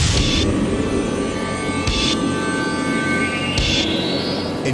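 A helicopter carrying skateboarder Danny Way for a big air record attempt gives a loud, steady whirring roar of rotor and engine noise that fills the clip, with brief surges, and no talking.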